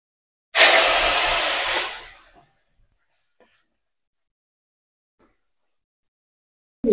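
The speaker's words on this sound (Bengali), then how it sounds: "এখন গরম তেলে মা মাছটা ভেজে নিবে।" Pieces of koi fish dropped into hot oil in a wok give a sudden loud hiss that sizzles for about a second and a half, then fades away to near silence.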